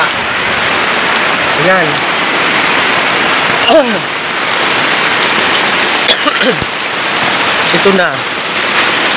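Heavy, non-stop rain pours during a flood on an island, a loud steady wash close by. Voices speak intermittently over it.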